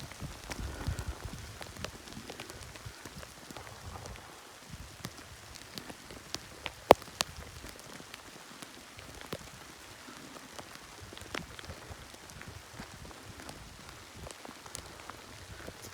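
Pea-sized hail falls on a woodland trail, a faint, steady patter of many small ticks with scattered sharper pings, one standing out clearly mid-way; no talking.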